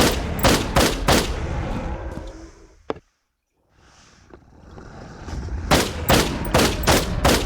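Rapid bursts of hip-fired gunshots in the video game Pop Some Eyes, loud and close, with a sudden silent gap midway before the firing resumes.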